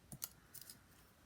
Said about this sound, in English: I'm just going to cut with my scissors